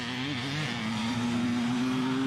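Two-stroke dirt bike engines, a Honda CR500 and a Kawasaki KX500, drone loudly and steadily at close range, holding a sustained buzzing tone with a slight rise in pitch and no speech.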